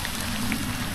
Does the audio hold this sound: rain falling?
yes